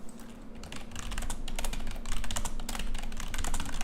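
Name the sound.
typing on a computer keyboard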